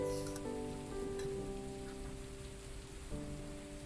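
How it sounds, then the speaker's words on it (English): Steady rain patters on the surfaces of a VR fishing game world, a close, even hiss that runs unbroken alongside soft sustained musical tones. "The sound of rain."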